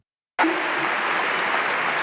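Applause from a large crowd at the Democratic National Convention bursts in suddenly and holds steady, a loud, dense wash of clapping with no break.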